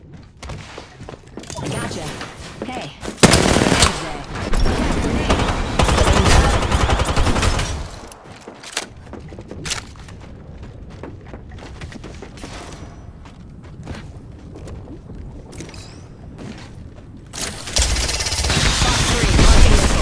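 Apex Legends gunfire erupts in loud bursts of rapid automatic shots, mixed with impacts and game effects, and in-game voice lines speak over the action.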